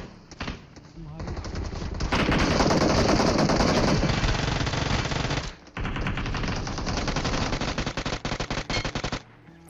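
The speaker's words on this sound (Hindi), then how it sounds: "देखो कहाँ कहाँ से फायरिंग होती है" Dense gunfire from several directions in a battle royale video game: sustained loud automatic bursts and overlapping shots, ending in a rapid staccato volley, with someone talking at times.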